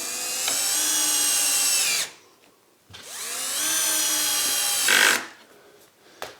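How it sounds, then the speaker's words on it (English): A power drill drives screws into a wooden mobile bench support, with two long whirring bursts that wind up and run steadily, separated by a short pause, close and loud. "I can now very easily screw in the screws"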